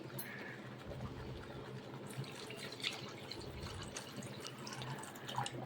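Water pours steadily into a pot of amla (Indian gooseberry) rasam, a soft, continuous splashing stream heard fairly quietly throughout.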